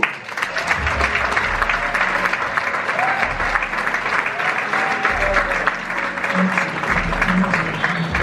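A conference audience at a Paris investment event applauds a speaker, steady loud clapping filling the room throughout, with a few low murmurs underneath.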